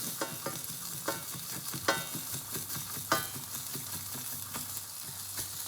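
Spring rolls frying in hot oil, sizzling and crackling steadily, with occasional louder pops and spatters and a few scraping, stirring sounds.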